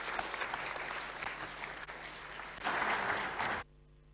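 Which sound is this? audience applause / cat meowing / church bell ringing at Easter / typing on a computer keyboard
audience applause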